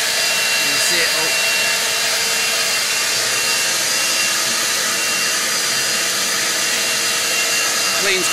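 A Titan shop vac fitted with a homemade cyclone dust extractor sucks up sawdust, a loud, continuous, steady roaring whine that stays close and unbroken throughout.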